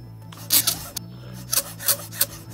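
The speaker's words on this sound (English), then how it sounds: "That starts off the flattening process on this round bar." A hand file works a flat onto a round bar for an AT-AT model build, giving about six short rasping strokes in an uneven rhythm, close and crisp with quiet gaps between them.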